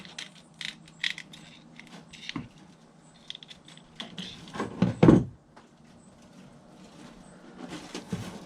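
Wire screen being folded and cut for a trap pan cover, with sparse crinkling, metallic snips and clicks, one louder crunch near the middle, close up and otherwise quiet.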